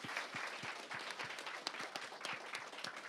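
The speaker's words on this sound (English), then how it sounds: "Let's give them the round of applause" A faint, distant round of audience applause for performers at a cultural event, individual claps distinct within the crowd and continuing steadily throughout.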